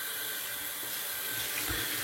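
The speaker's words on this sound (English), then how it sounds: "Just going to rinse it off real quick so I can put it down without" Tap water runs steadily into a sink, rinsing shaving lather off a razor or brush, a continuous close hiss and splash with a brief heavier gush near the end.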